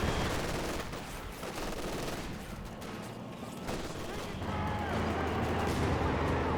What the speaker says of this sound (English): Good mortar hit there on the Pathfinders.